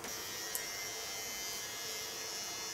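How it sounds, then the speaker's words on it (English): Electric clippers buzz steadily and close while trimming the hairline edges of an ultra-short pixie haircut, holding a constant hum with no talk. "So now I only have to clean up the lines and shave out the lines"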